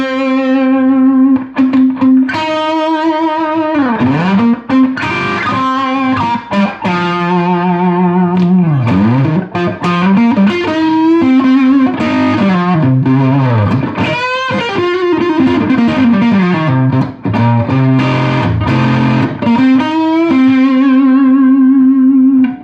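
An electric guitar runs through an Analogman-modded Maxon SD9 Sonic Distortion pedal, playing a loud, continuous melodic line of sustained, bending distorted notes with thick harmonics and short picked flourishes, alone without talk.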